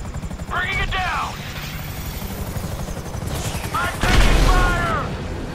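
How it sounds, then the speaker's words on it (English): A police helicopter in the video game GTA V thumps steadily overhead with a rapid rotor chop. Shouting voices, mechanical clatter and a heavier impact near the end sit over it. "FIB Chopper, he's on to us!"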